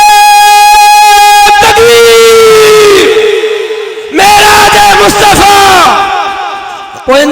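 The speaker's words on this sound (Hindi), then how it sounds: "तकबीर मेराज मुस्तफा" A large crowd at a religious gathering shouts slogans in unison in response to a speaker, with loud, echoing bursts of massed voices that rise, fade and return.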